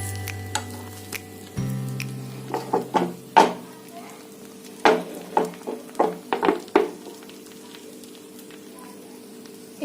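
Butter-fried omelette in a pan during home cooking, with a low frying hiss under a series of sharp clattering knocks and scrapes of a utensil against the pan, fairly close and irregular.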